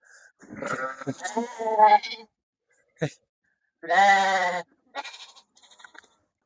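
Sheep and young lambs bleat in a pen, a few close, loud, wavering calls in short bursts separated by quiet gaps, with a brief human voice among them.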